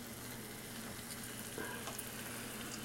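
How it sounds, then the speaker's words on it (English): Steaks sear in hot oil in a big, deep skillet with a continuous, dense sizzle and crackle. The sound stays steady, with a few brief louder pops. "sear the steaks in the oil"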